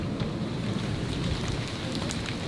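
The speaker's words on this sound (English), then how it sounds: "It's raining." Steady rain falls in a continuous dense patter around a recently washed Chevy, the hiss filling the space evenly without pause and with no voices.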